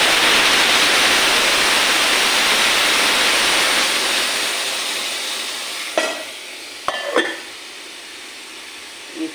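Boiled masoor lentil dal poured into a hot pan of fried panch phoron spices: a loud, steady hissing sizzle that gradually subsides, followed by a few sharp clinks of a utensil at the end.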